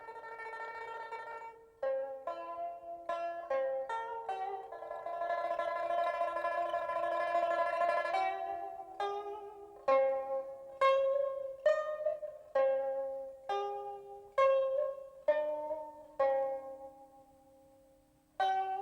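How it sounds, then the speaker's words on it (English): Ancient Chinese music from Dunhuang, a melodic instrumental piece with plucked, bowed-like sustained notes; a denser ensemble passage early on, then a series of distinct struck or plucked phrases with decaying tones, moderately loud and alone without speech. "What you are hearing now is a piece of ancient music from Dunhuang."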